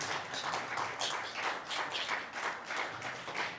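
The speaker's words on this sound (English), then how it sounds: "Can you give a big hand clap for the presenters?" Audience applause for presenters at a live Pan-Africanism panel event, a steady wash of many hands clapping at moderate loudness throughout with no talk over it.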